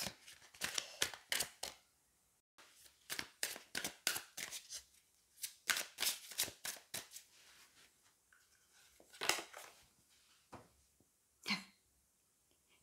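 Tarot and oracle cards drawn and handled, a run of close, crisp papery shuffles and flicks in quick uneven bursts with brief quiet gaps between them, soft overall with no voices.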